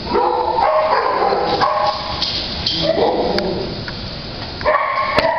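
An active 2.5-year-old, 65-pound dog barks and yips loudly and repeatedly over dense background noise, with short bursts and whimpers throughout.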